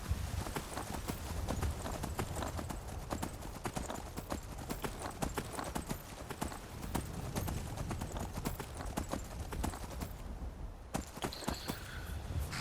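Horse hooves clip-clop steadily in the video game Skyrim near Whiterun, a dense continuous rhythm of hoof strikes heard close and loud throughout, with a brief pause near the end.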